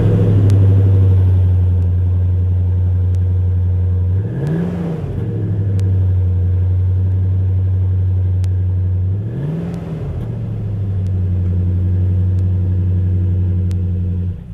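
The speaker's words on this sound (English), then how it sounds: "Mag flow exhaust here on the back as well, so it gives a little bit more growl to the V8 engine." A Lexus GX V8 overlanding concept fitted with a MagnaFlow exhaust idles with a loud, steady low rumble, swelling into two short revs a few seconds apart before settling back to a constant drone.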